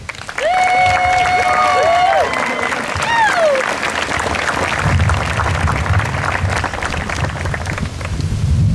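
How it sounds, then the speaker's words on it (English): Loud sustained applause from a high school graduation audience for the graduates' parents, with whistles and a voice briefly over it early on, then steady dense clapping to the end. "I think we all applaud our parents."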